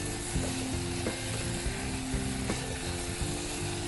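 Moringa drumstick pods sautéing in a pan, a continuous sizzle with repeated clicks and scrapes of stirring, close and steady throughout.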